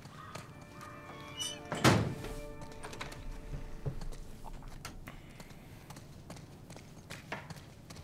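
A heavy door in The Last of Us Part 1 slams shut with a single solid thunk near the start, followed by quiet room tone and faint scattered ambient noises.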